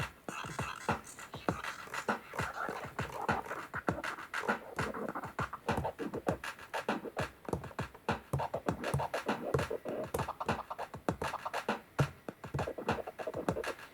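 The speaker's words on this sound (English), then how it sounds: "You can hear all the little complicated scratching in there." Dense stretched-out record scratching, a continuous flurry of rubbing and zipping textures with irregular rhythmic bursts, fairly quiet and with no talking.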